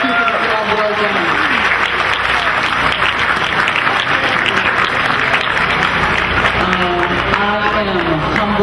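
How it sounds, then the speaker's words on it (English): A crowd at a tribal community and government center opening applauds for a team, loud sustained clapping filling the space, with voices and cheering mixed in. "Applause for the team"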